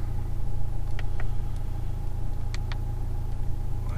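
A Honda Civic Type R engine running steadily from inside the car, a constant low drone with faint brief clicks over it and no talk.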